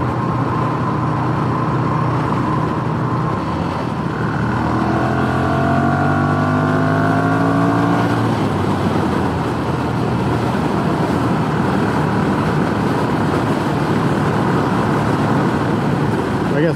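A Ducati Monster Evo 1100 motorcycle rides fast across town on a windy day, its engine droning under heavy wind rush with rising gear-change tones midway, close and loud throughout.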